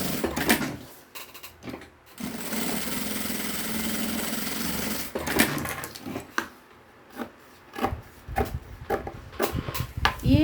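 A sewing machine runs a double seam on a bag pocket, giving a steady motorized whir in long runs with brief stops and a few knocks and handling clatters between them.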